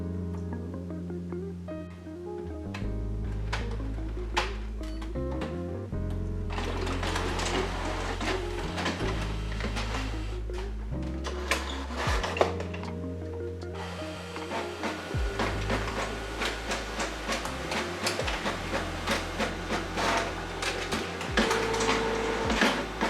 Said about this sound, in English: with HP SmartTank printer, when it is set to two-sided printing